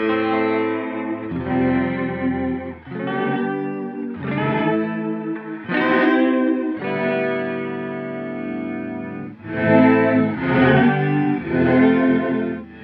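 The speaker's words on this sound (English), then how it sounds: "Reverse reverb" Guitar played through the reverse reverb patch of an ART SGE multi-effects processor, loud swelling chords that bloom and cut off in a steady sequence of sustained, smeared notes, with no voices.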